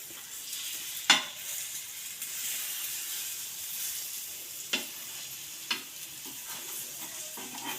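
Masala egg bread being stir-fried and tossed in a hot pan, a soft continuous sizzle with a few sharp scrapes and clatters from the tossing, heard close up with no talk.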